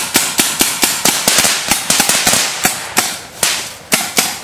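Sharp, close gunshots crack at an irregular pace in a war film battle scene, some rounds quick in succession with booming grenade-like hits among them, loud and with no voices.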